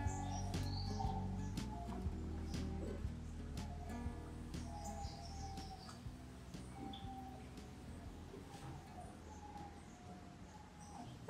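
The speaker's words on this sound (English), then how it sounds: "Java rice finch" Java rice finch calls as high, brief chirps scattered over a busy outdoor background of other birds near a stream, steady and moderately distant throughout.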